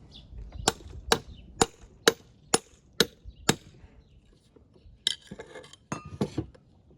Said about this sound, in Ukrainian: Беремо пробойчик, молоток, наставляємо пробойчик ось тут вал у нас.